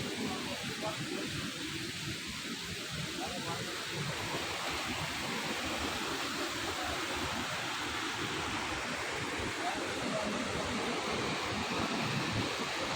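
A waterfall roars continuously nearby, a dense, steady rush of falling water filling the whole scene without pause.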